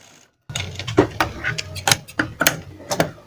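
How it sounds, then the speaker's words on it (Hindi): A sewing machine stitches piping onto a kurti sleeve in short, uneven bursts of mechanical clatter after a brief silence. "इस पर लगा देंगे सिलाई"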